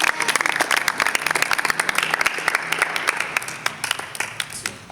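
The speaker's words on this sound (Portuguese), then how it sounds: "Aplauda o Senhor." A church congregation applauds together, a dense sustained burst of clapping that thins toward the end into scattered individual claps.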